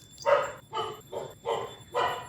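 A dog barks five times in a fairly even rhythm, loud and close, each bark full and separate, with no speech around it.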